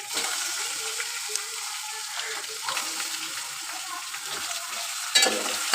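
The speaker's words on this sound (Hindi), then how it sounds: "तो चिकन को जो है अच्छे से पहले फ्राई कर लेंगे।" About half a kilo of chicken fries in a pan with a soft, fairly quiet sizzle and crackle, punctuated by a few stirring scrapes and a louder clatter near the end.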